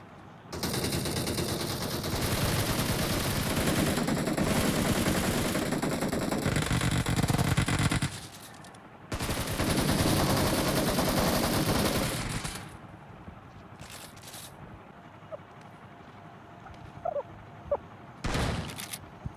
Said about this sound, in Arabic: هي طلقة الشوت جن بتريح